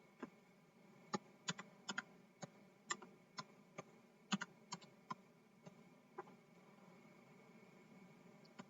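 Sharp, scattered clicks of keys being typed on a computer keyboard while configuring network switch and router settings, irregular single taps and short bursts over a quiet room hiss.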